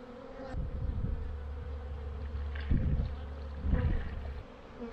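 Honeybees buzz close by at a hive, a steady droning hum with louder swells as individual bees pass near.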